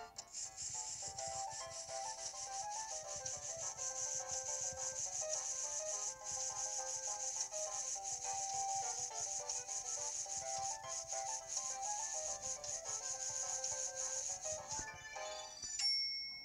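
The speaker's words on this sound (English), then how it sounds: "Move the wasabi to grate it." Wasabi grating in the Cooking Mama 4 Kitchen Magic video game, a rapid repeated rubbing scrape under a bright looping electronic tune, steady for many seconds before ending in a short chime.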